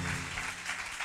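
A congregation applauding during a Sunday church service, a steady wash of many hands clapping together, moderately loud and sustained through the short stretch.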